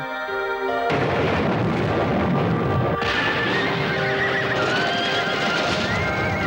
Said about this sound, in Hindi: मैं तुम्हें व्हाइट सैंडर बुलाऊंगा, दुनिया का सबसे बहादुर घोड़ा